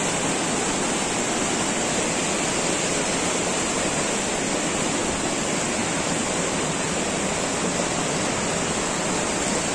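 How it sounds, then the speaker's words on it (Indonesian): Waterfall pouring among rocks at Langkuik Tinggi in West Sumatra, a loud, unbroken roar of falling water with no voices. "Di dalamnya ada air terjun"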